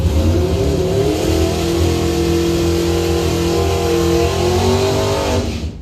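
A doorslammer Camaro drag car launches hard down the left lane at a drag strip, its engine roaring loud and close in one sustained, rising howl that cuts off abruptly at the end.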